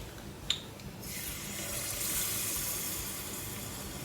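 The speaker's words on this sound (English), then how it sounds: "pouring spoonfuls of batter into the hot oil" Spoonfuls of banana or plantain fritter batter dropped into hot oil, a faint tap and then a steady soft sizzle that builds and holds.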